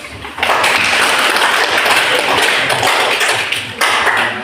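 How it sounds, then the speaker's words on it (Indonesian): Classroom applause from students after a group presentation, a dense burst of many hands clapping that starts abruptly, holds steady and loud for several seconds, then briefly swells again near the end. "Kita berikan aplaus."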